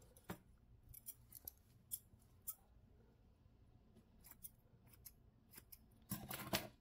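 Small scissors snip yarn for an amigurumi polar bear ornament in several quiet, crisp cuts spread across the moment, ending in a louder rapid flurry of snips close by.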